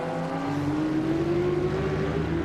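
A high-revving superbike engine at the 1990 World Superbikes race at Manfield whines steadily upward in pitch in top gear, a continuous racing drone at moderate distance with no voices.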